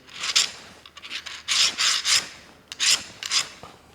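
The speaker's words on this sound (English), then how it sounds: "I'm just going to polish up these edges a bit, try and make them fit a little bit easier" A hand file rasps along the rough edges of hydraulic crimper dies to clear burrs, in short scraping strokes of uneven length with brief pauses between them, close and clear with no talk.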